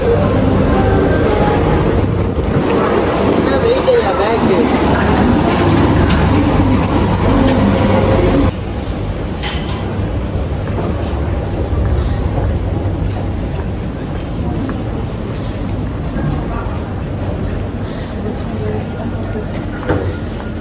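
A loud, steady rumble of a train at a station with clattering and a constant roar, which drops slightly partway through.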